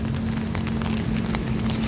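Rain falling near a concrete bridge, a steady hiss of drops on surfaces with a constant low hum underneath, even and moderately close.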